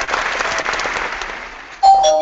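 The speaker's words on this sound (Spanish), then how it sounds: "Campanas," Bells ring with a short, bright ding-dong tone in the final half-second, after a burst of clapping-like noise.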